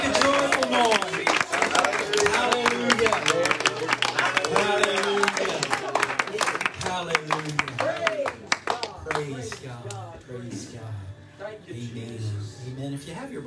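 Church congregation clapping their hands in worship, a dense rhythmic patter under a preacher's loud voice and voices singing or calling out.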